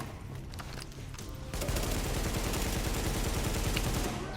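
Gunfire in The Division while shooting at a barrel: a few scattered shots at first, then a dense, sustained automatic burst that holds loud for several seconds before it cuts off.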